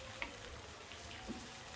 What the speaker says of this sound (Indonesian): Aduk-aduk sampai petisnya itu meleleh dan bercampur dengan semua bahan.